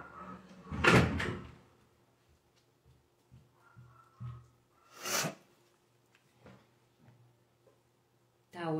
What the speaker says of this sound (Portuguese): Vou ver se eu fecho ali a porta